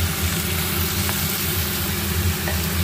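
Ginger garlic paste hitting a hot pan, a steady broadband sizzle with a low rumbling undertone that holds evenly throughout, close and moderately loud, with no talk.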